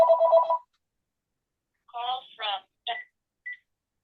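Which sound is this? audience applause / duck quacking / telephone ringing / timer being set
telephone ringing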